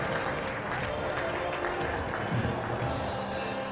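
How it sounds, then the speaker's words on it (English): Scattered applause rises in the stands at Glenview Ice Center during a varsity hockey game after an injured player leaves the ice, a broad crowd wash at moderate level with voices underneath. "followed by some applause"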